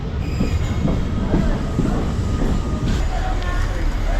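A local train on the Howrah–Digha line rumbles heavily and continuously, wheels grinding and squealing on the rails as it rolls into Raghunathbari station, with faint voices beneath.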